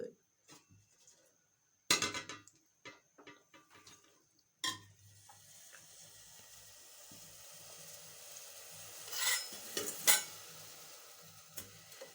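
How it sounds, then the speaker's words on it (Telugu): Vermicelli frying in oil in a pan over a low flame, with intermittent clinks and scrapes of stirring, a soft steady sizzle building underneath, and a couple of louder splashy bursts near the end. "ఇట్లా రెడ్ కలర్ వచ్చేంత వరకు సన్నని మంట మీద ఫ్రై చేసుకోవాలా"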